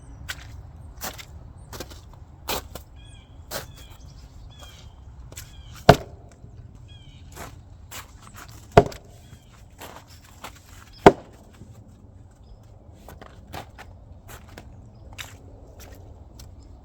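Frozen wood rounds split with a standard 8-pound maul in a muddy yard: three sharp, loud strikes stand out among scattered faint knocks, crunches and shuffling steps outdoors, with no talking.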